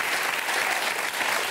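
Audience applause for a comedy stage act, a short, full burst of dense clapping from a crowd.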